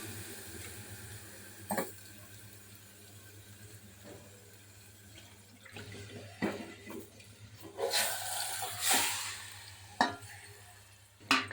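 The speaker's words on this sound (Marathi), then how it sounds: "हे आता आपण फोडणी घालूया." Hot tempering is poured into a homemade fish curry, giving bursts of sizzling and bubbling hiss amid occasional stirring clatter, fairly faint and close, with no talking.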